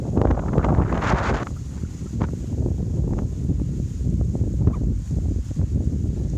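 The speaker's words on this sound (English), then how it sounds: "And it's windy." Wind on a bay shore buffets the microphone in heavy low rumbling gusts, with a strong blast early on and a faint high whine in the background.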